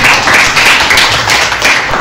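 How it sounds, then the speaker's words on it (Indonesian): Sustained clapping from a group of people, dense and steady throughout, fairly loud with no talking. "tepuk tangan."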